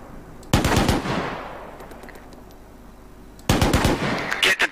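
Gunfire in the Arma 3 military game during a desert campaign push: a loud burst of rapid rifle and machine-gun shots, a long fading echo, then a second heavy burst of overlapping shots.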